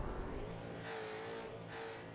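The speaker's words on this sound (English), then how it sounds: "got Mark Cochran doing some burnouts" Supercar in an iRacing simulator championship round at the Algarve circuit doing burnouts, its engine droning steadily and loudly with rising and falling revs and a rough tire-scrub hiss.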